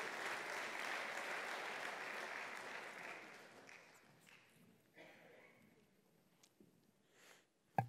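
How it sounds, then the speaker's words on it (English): An audience at an ICT awards ceremony claps loudly and steadily for about three seconds, then the applause thins into scattered claps and quiet room noise, with a sharp bump at the end. "more applause to carry you up the stairs"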